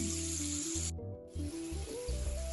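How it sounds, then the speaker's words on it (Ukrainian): Lazy cabbage rolls fry in a pan over moderate heat, giving a steady, close sizzling hiss that briefly thins out near the middle, with a low tonal hum running underneath and no talking. "на помірному вогню вони будуть смажитися ще до золотої скоринки"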